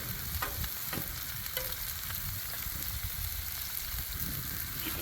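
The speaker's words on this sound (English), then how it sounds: "just cooking egg, almost like a scrambled egg," Egg frying on an oiled griddle, cooked almost like a scrambled egg, giving a faint, continuous crackling sizzle with occasional light scrapes and taps, close by and with no voices.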